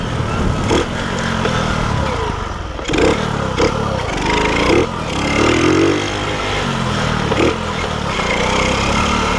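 Moby motorcycle engine revving as it climbs a hill, a loud buzzing note that repeatedly surges and dips with the throttle, close by and continuous.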